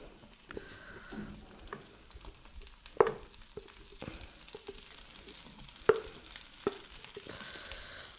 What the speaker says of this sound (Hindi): आलू को ऐड करने के बाद हम इसकी अच्छे से करेंगे भुनाई